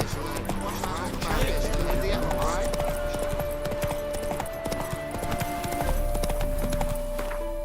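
Hoofbeats of Roach, a horse in The Witcher 3 game, trot in a steady clip-clop rhythm at a loud, close level, under game music and talk, with a faint whinny.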